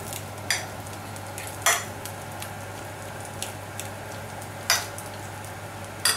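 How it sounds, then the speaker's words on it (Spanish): A utensil mashing cooked potato into beaten egg in a bowl for a Spanish potato tortilla, giving sparse, distinct clinks and scrapes a second or more apart over a steady low hum, with no one talking. "La vamos a chafar un poquito, que se mezcle bien el huevo con la patata."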